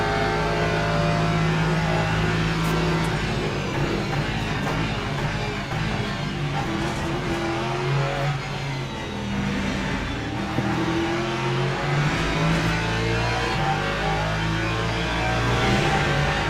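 Ferrari race car engine in Le Mans Ultimate at Paul Ricard, a steady loud high-revving drone with shifting pitch and a rival car's engine rising and fading alongside, no voices.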